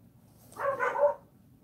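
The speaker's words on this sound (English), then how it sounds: "the dogs are being annoying downstairs, barking at someone" Dogs bark downstairs in a house, a short muffled burst of two or three yaps that sounds somewhat distant and moderately loud, with no one talking over it.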